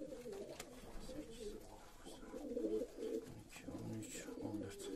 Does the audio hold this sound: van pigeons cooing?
yes